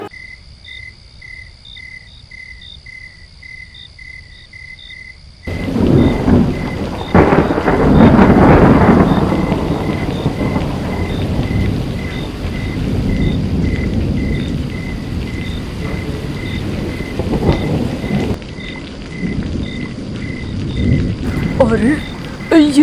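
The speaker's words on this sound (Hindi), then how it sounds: "ये ऐसा तूफान और ऐसी बारिश तो पहले कभी नहीं सुना मैंने।" A cartoon thunderstorm: loud heavy rain and rumbling thunder burst in after a quiet stretch of chirping crickets, with crickets continuing faintly underneath.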